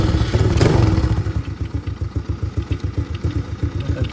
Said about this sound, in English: turn it up, you'll notice that the idle's starting to go up